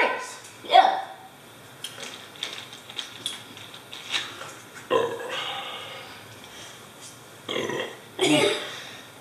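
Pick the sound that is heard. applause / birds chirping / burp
burp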